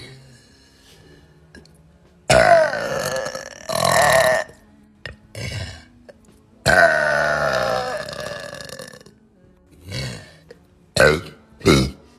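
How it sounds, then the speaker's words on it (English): Girls burp loudly several times, close up, in long throaty bursts separated by short pauses, with a few shorter burps toward the end. "do more burps"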